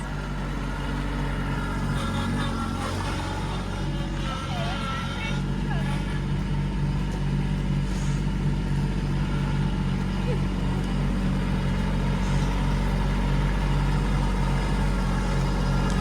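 A Kubota LX2610 tractor engine runs steadily with a loud, continuous diesel rumble close by, while people talk over it.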